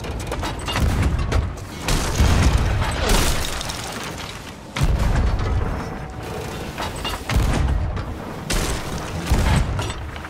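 Ship cannons in the video game Sea of Thieves fire in heavy booming blasts, several loud shots spaced irregularly, mixed with creaking wooden mechanism clatter.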